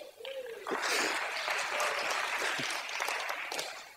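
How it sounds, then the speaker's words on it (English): An audience breaks into applause after a short voice and a brief whoop, the dense clapping holding steady at moderate loudness until the end. "Round of applause, please."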